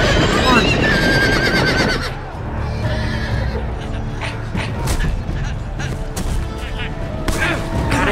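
A horse neighs loudly in a Game of Thrones video game scene, a shrill whinny up front followed by snorts and hoof clatter amid combat noise and a player's voice.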